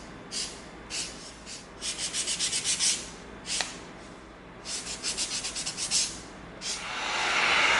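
A frayed edge of EVA foam is hand sanded with 220 grit sandpaper in short bursts of rhythmic rubbing strokes, close and fairly quiet, pausing between passes.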